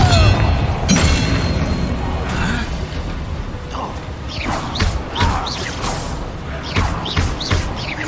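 A Confringo blasting spell bursts in Hogwarts Legacy: a loud booming blast near the start, followed by whooshing magical swishes and thuds layered over busy combat noise for the rest of the clip.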